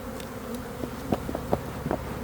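Dense swarm of honey bees buzzing around an open beehive during a colony split, a steady close hum with scattered louder bee passes and occasional soft knocks of hive frames.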